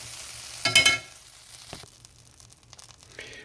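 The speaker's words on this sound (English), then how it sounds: "Gonna throw a little butter on here. Gonna push it around here with a little spatula." Butter hits the hot plate of a Flame Thrower grill with a brief loud sizzle, followed by quieter scraping and crackling as a spatula pushes it around, close by and free of talk.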